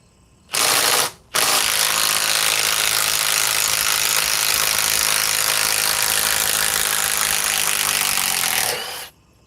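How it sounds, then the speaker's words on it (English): A Milwaukee M18 Fuel compact 3/8 impact wrench on a Forge battery, set to speed 3, removes a stubborn fastener. A short burst comes first, then a long continuous loud whirring hammer drone that cuts off abruptly near the end. "Let's put it on the compact 3/8 Milwaukee M18 fuel with a forge battery."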